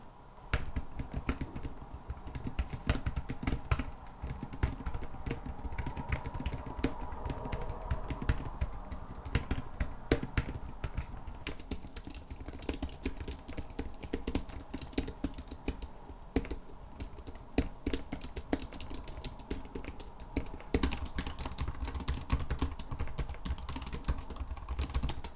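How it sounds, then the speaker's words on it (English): Typing on a Rapoo 9050M non-mechanical wireless keyboard, a quiet, rapid stream of soft key taps with irregular rhythm running continuously, close up and fairly faint, with no voices. "Let's do a little quick typing test"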